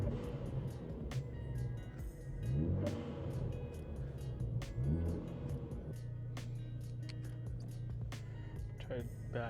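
Ford Focus ST with a GFB DVX diverter valve backing out of a driveway, its engine idling and rumbling with a couple of short revs, heard close alongside talk.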